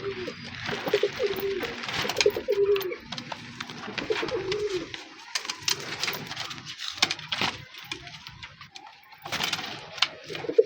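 Pigeons coo repeatedly nearby, overlapping throaty calls rising and falling, with occasional rustling and faint wing movement.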